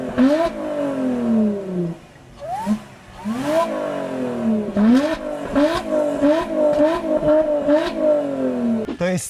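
A Lotus Evora sports car engine revving hard again and again, its exhaust rising and falling in loud, close bursts of throttle.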